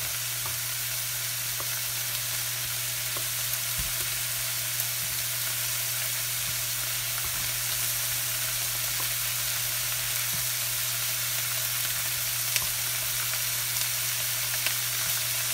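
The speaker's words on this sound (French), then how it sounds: "j'essaie de les tourner un peu, en train de les cuire, de les saisir des côtés" Pieces for pad thai sear and fry in a hot pan, a steady broadband sizzle with a constant low hum underneath and occasional faint clicks of turning, with no talking throughout.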